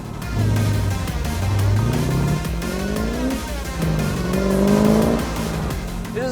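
A custom Brintech V8 car engine revs hard while driving, rising and falling through several gear pulls, with a loud, close, throaty roar that swells and drops repeatedly.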